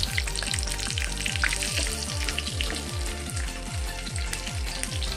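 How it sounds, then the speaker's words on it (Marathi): Spices for dal tadka sizzle in hot ghee or oil, a steady crackling fry with a pulsing low rhythm running underneath, close and continuous throughout. "तुपाऐवजी तुम्ही तेलाचा पण तडका देऊ शकता."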